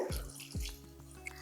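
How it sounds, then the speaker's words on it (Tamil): About 100 ml of water splashes briefly into a pot of moong dal (pasi paruppu) payasam in a home kitchen. A couple of close, short pours and drips are heard, with no talk. "நூறு எம்எல் அளவுக்கு தண்ணி ஊற்றிக்கலாம்"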